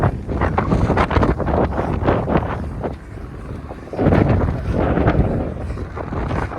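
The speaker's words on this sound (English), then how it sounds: "It's very windy." Strong outdoor wind buffeting the microphone, a loud continuous rumbling roar with gusty swells and no other clear sounds.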